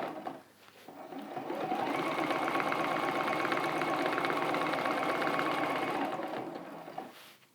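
A sewing machine stitches a wiggly flame pattern while quilting a spinning sun block, a steady rapid whirring hum that starts up, runs about five seconds, then winds down; quiet and close.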